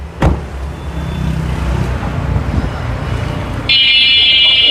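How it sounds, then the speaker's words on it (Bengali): A Toyota Noah with CNG conversion idles smoothly, a steady low engine rumble up close, joined near the end by a high electronic tone, likely a dashboard chime. "গাড়িটিতে আমি স্টার্টে রেখেছি বোঝানোর জন্য ইঞ্জিনটা কতটা স্মুথ"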